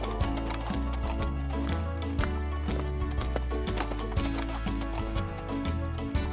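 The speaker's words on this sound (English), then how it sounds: "It's a horse." Rhythmic clip-clop of a horse trotting, steady and quick, mixed with a bright musical backing.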